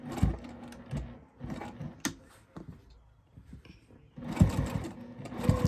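A sewing machine stitches a slip pocket onto a patchwork tote bag in several close bursts of rapid whirring, separated by short pauses with faint handling sounds.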